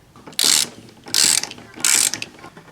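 A ratchet loosens strut mount bolts on a 1998 Audi A6 Quattro, giving three quick bursts of rapid clicking at a steady pace, close and loud, with no talking.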